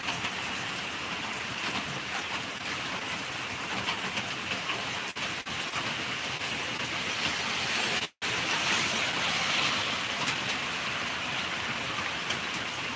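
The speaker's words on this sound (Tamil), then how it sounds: "அடைச்சிக்கிட்டு மழை பெய்யுது" Heavy rain pours down in a dense, continuous hiss, loud and close, with one brief dropout partway through.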